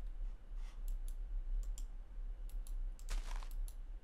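Sharp, quiet mouse clicks in scattered clusters while playing Minecraft with the SecurityCraft mod, a few light taps followed by a brief louder burst near the end, no voices.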